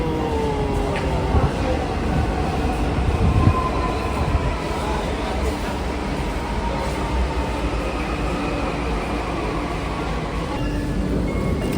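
A Delhi metro train rumbles in alongside a platform, steady and loud with faint wheel squeals, while people talk in the background.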